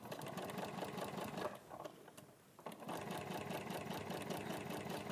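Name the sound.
sewing machine stitching fabric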